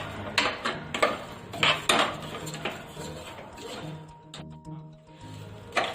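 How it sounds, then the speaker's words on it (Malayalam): Fish biriyani masala sautéed in coconut oil in a pan, heard as repeated close metal clinks and scrapes of a spoon against the pan in irregular bursts, with a soft sizzle underneath. "ഇതൊന്ന് നമുക്ക് ഈ വെളിച്ചെണ്ണയിട്ടൊന്ന് വഴറ്റിയെടുക്കാം."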